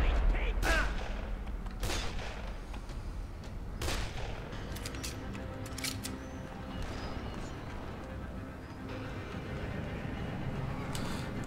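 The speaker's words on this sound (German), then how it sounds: "Ungewohnt hier, dieses Rumgeballe hier in dem Spiel." Gunfire in the video game Dead Island crackles in several sharp bursts over steady background noise, with shots scattered irregularly throughout.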